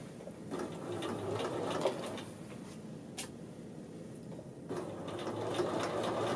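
A sewing machine edge-stitches a men's shirt collar band, its motor whirring in two steady runs separated by a brief pause, close and fairly quiet, with no talking.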